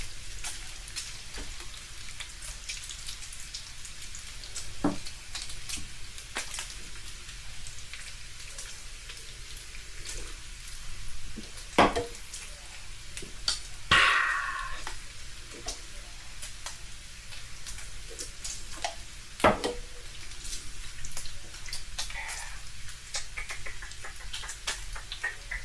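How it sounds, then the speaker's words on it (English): Breakfast burrito filling sizzles steadily in a frying pan, a constant crackling hiss with a few louder pops and spatters, heard up close with no talking. "Gotta let this sizzle for a bit now."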